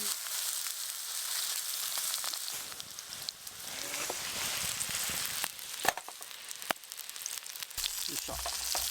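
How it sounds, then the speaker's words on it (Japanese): A hamburger patty of Jinseki beef sizzles in a hot frying pan with olive oil at a solo campsite, a dense crackling hiss close up with a few sharp pops and clicks. "ではハンバーグ入れていきます。"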